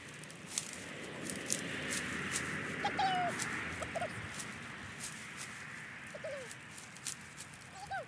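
Scattered chicken clucks and short calls over a steady outdoor farm background, mixed with rustling and occasional soft bird sounds.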